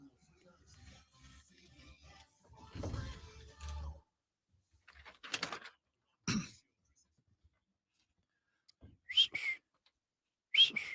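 A person tries to whistle several times, producing short breathy, airy bursts with a couple of thin whistled tones, separated by pauses and some low throat noises.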